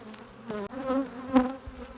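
Honeybees from a strong colony drone at an open hive during a frame check, a soft, steady buzzing hum with slight swells, heard alone at low volume.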